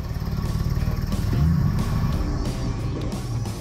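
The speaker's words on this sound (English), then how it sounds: "We had to be careful to drive the truck onto our hauler" A heavy 1964 Ford F350 flatbed truck engine rumbles and revs steadily at close range as it drives onto a hauler, with clattering mechanical noise and no voices; the truck has an engine leak and no brakes.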